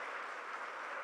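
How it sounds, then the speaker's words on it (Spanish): Church congregation clapping to welcome first-time visitors, a soft, even wash of applause that sounds somewhat distant and holds steady without pauses. "Demos un fuerte aplauso de bienvenida a las personas que"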